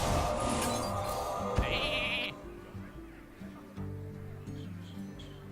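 Sheep bleat from the Polymorph spell in the Hearthstone card game, a short synthetic bleat with bright game effects mixed over a steady musical background.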